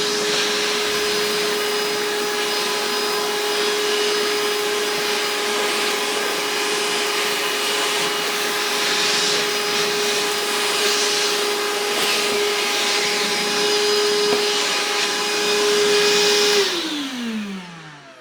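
Evolution R11VAC 18V cordless wet and dry vacuum running a quick test, a loud continuous motor whine and airflow hiss that holds steady, then winds down as it is switched off near the end. No talk.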